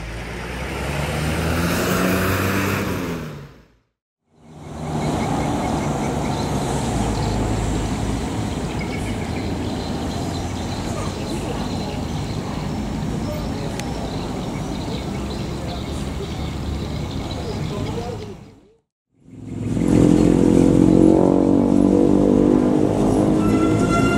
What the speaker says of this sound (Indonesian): Suara knalpotnya kayak suara dompeng